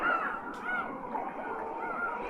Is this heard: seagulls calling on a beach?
yes